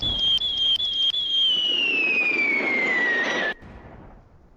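Falling whistle of dropped bombs in the Roblox Warships game, a loud descending tone with sharp pops and a rumbling blast, cutting off abruptly into a fading tail.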